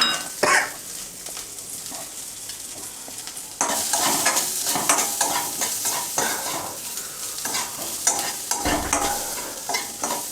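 Garlic, coarsely crushed, is dry-roasted and stirred in a pan for poha chivda, with scraping stirs and a light sizzle that grow louder and busier partway through, plus occasional clinks of utensil on metal.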